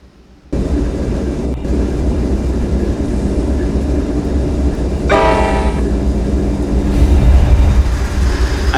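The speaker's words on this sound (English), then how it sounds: "I gave this locomotive a different horn" Locomotive in a train-simulation game at an American railroad crossing, a loud continuous rumble of the engine and rolling cars with a blaring horn blast in the middle and a second horn note near the end, no talking.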